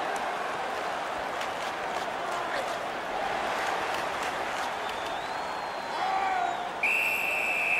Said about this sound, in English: A whistle and a rest.